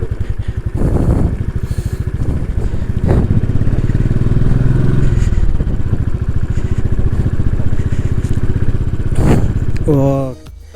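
A motorcycle rides over a rough, slippery road in Nepal. The engine drones loud and close, with rattles and clatter throughout, and then cuts off near the end. A voice speaks briefly.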